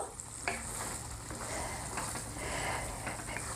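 Fresh, unboiled peas cooking over medium flame in a pan for matar paneer, with a steady close sizzle and occasional scraping taps from stirring.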